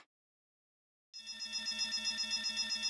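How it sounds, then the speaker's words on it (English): Alarm going off in the Nikke: Goddess of Victory video game as units overheat, starting abruptly after a second of silence and continuing as a loud, steady, pulsing electronic tone with a low rhythmic throb. "What? An alarm? What is it?"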